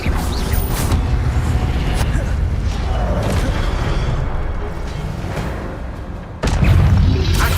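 An Incendio fire spell goes off in Hogwarts Legacy with a heavy, roaring blast that sustains a rumbling burn and then surges again with a fresh burst near the end.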